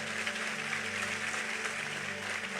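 Congregation applause during a Sunday evening church service, a steady wash of many hands clapping at moderate distance, heard alone with a low steady hum underneath.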